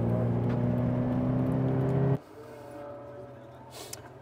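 A Toyota GT86 idles and cruises slowly on a cooldown lap, a steady engine drone that drops abruptly to a quieter low rumble midway, with faint voices in the background.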